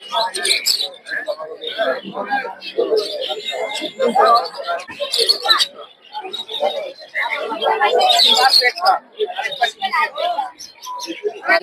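Many caged birds chirp and tweet in a busy bird market, a dense, close chatter of calls with some cooing, while voices talk throughout.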